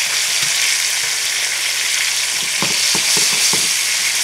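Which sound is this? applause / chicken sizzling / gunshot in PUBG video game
chicken sizzling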